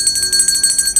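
A struck bell rings with sustained high metallic partials, sounding loud and close in a rapid series of pulses with no talk over it.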